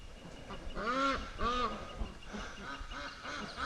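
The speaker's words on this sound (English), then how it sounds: "oh, listen to these ducks." Rouen ducks quack in a close, insistent series of nasal calls, several loud ones early and softer ones trailing after, over light outdoor background noise.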